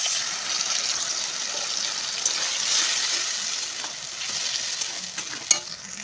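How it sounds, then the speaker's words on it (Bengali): Mustard powder, turmeric, salt and chili powder fry with tomato in a pan, giving a steady broad sizzle with scraping stirring sounds throughout, close and fairly loud. "ভালো করে নাড়াচাড়া করে দিই, নাড়াচাড়া করে জল দিয়ে দেবো"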